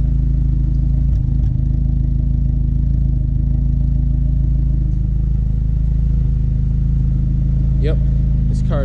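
Turbocharged Honda Accord engine idling in a garage, a loud steady low rumble with a constant drone and a couple of faint high squeaks near the end.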